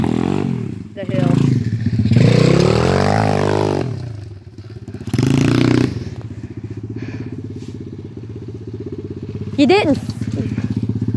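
Modified SSR125 dirt bike revving hard as it climbs a hill, engine note rising and falling in loud bursts with a drop-off midway, people talking and shouting over it.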